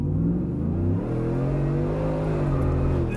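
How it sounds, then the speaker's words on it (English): A supercharged V8 Ford F-150 pickup is floored at full throttle. Its engine drones steadily and loudly, and the rising harmonic tones show it pulling hard through the gears. "I'm gonna floor it."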